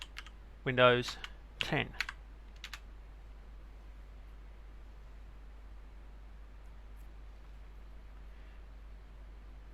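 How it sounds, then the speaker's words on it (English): A quick burst of keystrokes on a computer keyboard while installing a Windows virtual machine. The clicking is close, with a few more taps and a brief spoken phrase, then quiet room noise. "in the search, first of all, we'll type in"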